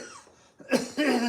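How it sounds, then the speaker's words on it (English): A person coughs once sharply up close, followed by a short vocal sound after a quiet moment. "You're making me cough"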